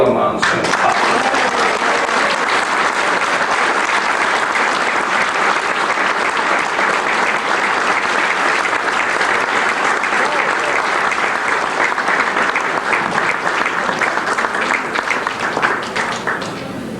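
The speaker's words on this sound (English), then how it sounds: "let's give a round of applause and a great welcome to Gorilla Monsoon" Audience applause welcoming Gorilla Monsoon at a 1994 Cauliflower Alley Club event, a dense, sustained round of clapping from a large crowd that continues evenly and begins to fade only at the very end.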